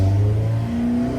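Engine revving hard under load on a dynamometer, a steady loud drone held near one pitch before easing off slightly, close and continuous with no talk.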